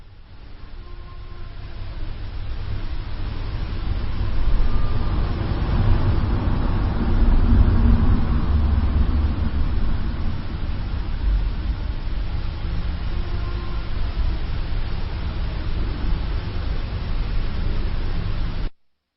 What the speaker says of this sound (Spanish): el sonido del motor de un coche